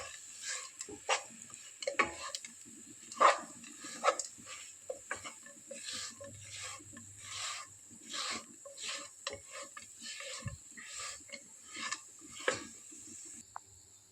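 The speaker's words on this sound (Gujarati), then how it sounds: "તો હવે આપણે ડ્રાયફ્રૂટ નાખીને બે મિનિટ શેકી લઈશું એટલે ડ્રાયફ્રૂટ પણ શેકાય છે સરસ મિક્સ થઈ જાય અને શેકાઈ પણ જાય" Dry fruits being stirred and roasted in a pan for fig rolls, giving soft, intermittent scraping and clicking strokes at an irregular rhythm, close by and fairly quiet, with no talk.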